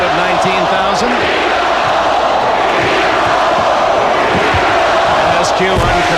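A crowd of 19,000 at a 1993 NBA Western Conference Finals Game 7 between the Suns and Sonics roars and chants "Beat the Bulls" in a loud, sustained wash, with a rhythmic chant rising over the constant arena noise and a voice talking over it.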